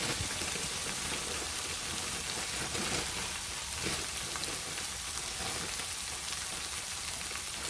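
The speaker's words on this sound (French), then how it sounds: "Mais je vais mettre mes légumes surgelés. Donc ça va me donner un peu d'eau pour le départ de ma cuisson." Frozen vegetables, including broccoli, courgettes, pointed cabbage and carrots, cooking in a pan with tomato sauce, giving a soft, continuous crackling sizzle like light rain, fairly quiet and steady throughout.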